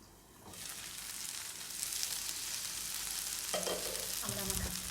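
Potato masala being stirred in a pan after water has been added and the pan was covered, a close, steady frying sizzle with soft stirring scrapes and a couple of clinks near the end.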